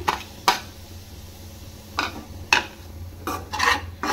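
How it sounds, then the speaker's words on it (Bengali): A spoon scrapes and stirs milk halwa into semolina in a pan, giving a few separate rasping strokes with quiet gaps between them and a busier cluster of scrapes near the end. "এবার যে হালুয়াটা করে রেখেছিলাম সেটা এর মধ্যে অ্যাড করে দিচ্ছি"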